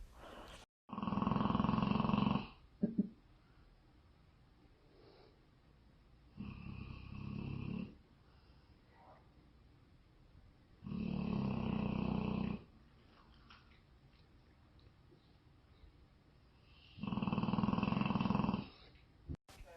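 A dog sprawled on a sofa snores in four long, loud, rasping breaths spaced several seconds apart, each a deep rumbling drone, with near silence between them.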